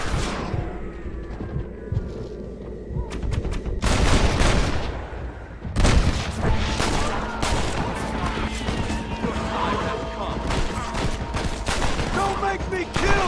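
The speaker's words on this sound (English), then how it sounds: "Shooting at me!" Dense gunfire in the video game Red Dead Redemption, with rapid shots and bursts crackling loudly and almost without pause through a chaotic firefight, mixed with game noise and occasional voices.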